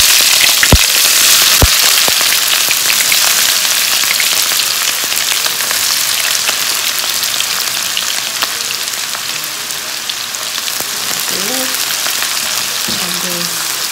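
Sliced and chopped onions frying in hot oil for Kottayam-style Kerala beef fry, a steady close sizzle and crackle with occasional sharp pops, continuous throughout.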